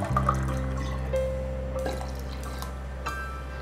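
Chilled water, about one and a half glasses, pours into raw mango pulp for homemade kairi panha, a light steady trickle and drip over a low background hum with no talking.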